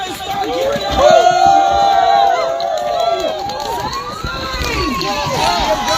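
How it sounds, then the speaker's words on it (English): A protest crowd cheers and whoops with loud, rising shouts and high-pitched cries over a constant hubbub of voices and chatter, staying loud throughout. "give yourselves a round of applause"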